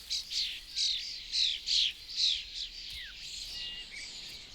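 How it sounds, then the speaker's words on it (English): A noisy brood of starling chicks in a backyard garden nest gives repeated harsh, raspy begging calls in steady bursts, loud and close, tapering off into quieter scattered chirps near the end. "the starlings have no trouble feeding their noisy brood"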